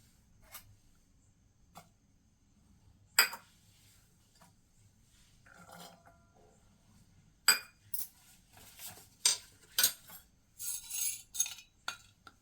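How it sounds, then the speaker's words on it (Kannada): Cut fruit, including pomegranate, goes into a bowl in a scattered series of light clinks, taps and soft thuds, sparse at first and then quicker and louder near the end, close by with no talk. "ಒಂದು ಬೌಲ್ ತೊಗೊಂಡು ಕಟ್ ಮಾಡ್ಕೊಂಡಿರೋ ಫ್ರೂಟ್ಸ್ ಎಲ್ಲ ಇದಕ್ಕೆ ಹಾಕೊಳ್ಳೋಣ"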